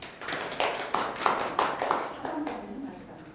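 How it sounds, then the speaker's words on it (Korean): Audience clapping with a few stronger, rhythmic bursts of claps, heard under a speaking voice in a room at an academic conference. "박수 한번 쳐주십시오."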